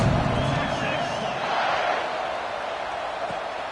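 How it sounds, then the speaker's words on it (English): Football stadium crowd at an NCAA game buzzing after a score, a dense, steady roar of many voices filling the space, broad and continuous without distinct cheers standing out. "this crowd is buzzing after that last score"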